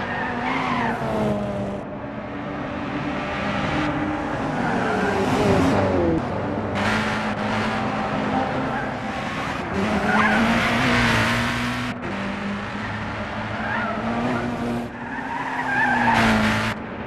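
A race car on the Laguna Seca circuit in Gran Turismo 6 slides off the track, with sustained tire squeal and skidding over a revving, shifting engine across many seconds and no voices.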